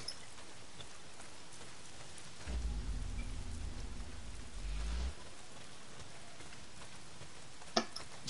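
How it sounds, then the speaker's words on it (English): Heavy rain in the video game Days Gone, a steady hiss of downpour that swells with a low rumble for a few seconds, then settles, ending with a single sharp tick. "Not if it's pissing down rain."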